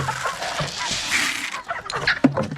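Backyard farm chickens cluck and squawk at feeding time, with scattered short calls and bird chatter over a soft background, moderately near and fairly quiet.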